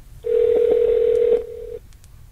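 A call dialed through a JBL GO portable Bluetooth speakerphone: a steady electronic dial tone holds for over a second, with brief tonal blips near the end, clear and fairly loud in a quiet room.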